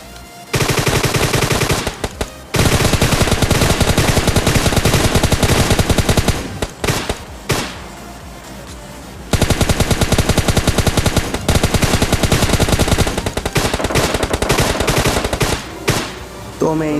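Heavy automatic gunfire in a PUBG Lite squad fight rattles out in long, loud bursts broken by short pauses, with rapid overlapping shots filling most of the stretch.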